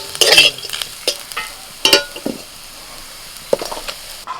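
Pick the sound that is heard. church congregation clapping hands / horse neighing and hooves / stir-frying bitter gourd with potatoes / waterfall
stir-frying bitter gourd with potatoes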